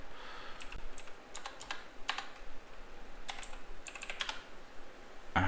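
Someone types on a computer keyboard in quick bursts of several keystrokes separated by short pauses. The clicks are close, crisp and fairly quiet, with no talking.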